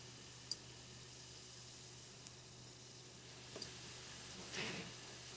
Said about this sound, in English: I'm going to dip that real quick and just throw it in the pan